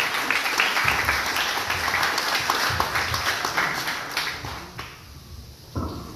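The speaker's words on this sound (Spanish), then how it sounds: "Un fuerte aplauso para Miguel Pereira" An audience applauds to welcome the mayor of San Miguel at the opening ceremony of a migrant care centre, a dense steady clapping that thins and fades toward the end before a brief final burst.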